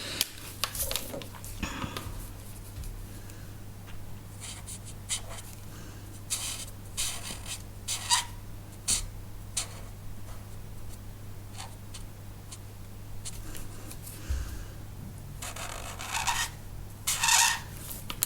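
Dry marker chisel tip scratching across colouring-book paper in short, irregular strokes, close and fairly quiet, over a steady low electrical hum.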